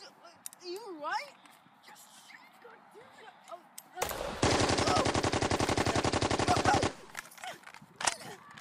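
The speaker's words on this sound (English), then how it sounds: "This is a gun! Just shoot!" Gunshots in a video game, a rapid steady burst of automatic fire lasting about three seconds, loud and close, with a lone shot after it and excited talk before.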